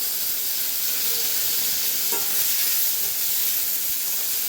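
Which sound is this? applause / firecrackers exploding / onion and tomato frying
onion and tomato frying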